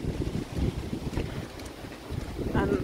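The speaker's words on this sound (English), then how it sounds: "Wow, it's so windy." Wind buffets the microphone in a constant, low rumbling roar, loud and close, rising and falling in uneven gusts with no clear speech.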